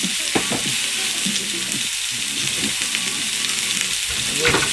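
Onions fry with salt in a hot pan, a loud continuous sizzle with occasional spoon stirs and clacks against the pan throughout.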